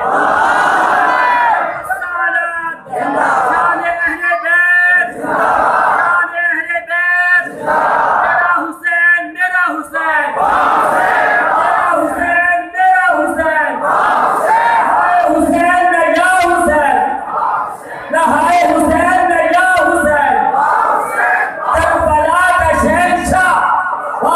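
A large crowd chants the Nara-e-Takbir slogan, loud massed voices raised in repeated rhythmic calls that fill the space with barely a pause.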